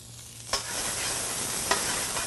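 Vegetables sizzle steadily in a hot pan for a Bolognese sauce, with two sharp scraping stirs standing out over the continuous frying hiss.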